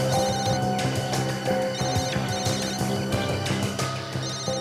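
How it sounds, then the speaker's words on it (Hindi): A telephone rings continuously, an electronic tone repeating over several seconds at steady loudness with no talking. "हाँ, फोन की रिंग जैसी आवाज है।"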